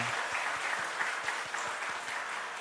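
A church congregation claps steadily for the elderly members during a Sunday Parents' Day service, a continuous patter of many hands filling the room for a few seconds.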